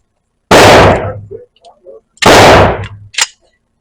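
A Hi-Point JXP 10mm pistol fires 180-grain jacketed hollow points outdoors, two loud, sharp shots about two seconds apart with echoing tails and faint clinks between them.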